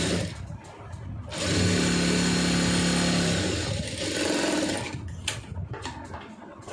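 A sewing machine stitches fabric for a few seconds, giving a fast, steady mechanical whir that rises, holds and then stops, with quieter handling noises after it.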